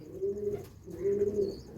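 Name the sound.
Madrasi pigeons cooing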